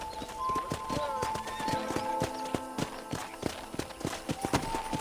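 Horse hooves clip-clop at a steady walking pace in a ranch video game. The rhythmic hoof strikes sound close and clear over a light musical bed.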